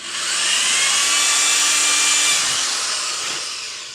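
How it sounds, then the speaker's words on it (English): A high-pitched drill whines steadily as it bores a hole into a formicarium for harvester ants, close and loud, rising in the first moments and fading slightly toward the end. "Alright, I'm going to re-drill this hole over here."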